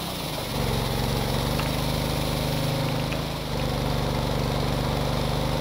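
Small combat boat engine in Stormworks throttled down, a steady buzzing drone that shifts to a lower, even idle-like hum after a brief swell, close and continuous with no talk.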